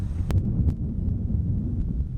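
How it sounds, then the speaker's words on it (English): Steady low rumble of wind buffeting outdoors after a hurricane has passed, continuous and moderately loud across the whole stretch, with a couple of brief gusty bumps. "sure you can hear the wind, but it's really not that windy"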